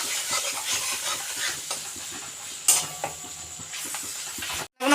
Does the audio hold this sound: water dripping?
no